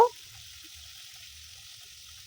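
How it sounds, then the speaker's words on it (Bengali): Bele fish fry in hot oil in a pan, giving a faint, steady sizzling hiss throughout after a brief knock at the start. "এভাবে করে সব মাছগুলো আস্তে আস্তে ভেজে নেব"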